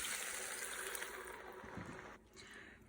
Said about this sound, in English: we will add about 2 cups of broth